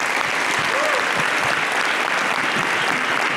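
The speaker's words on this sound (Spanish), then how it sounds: "Gracias a Marga, Gerardo, Gabriela, a ustedes por sus aplausos" An audience claps after a lecture on the conservative and far-right turn in politics and culture, a loud, continuous burst of applause filling the room with a few scattered voices beneath it.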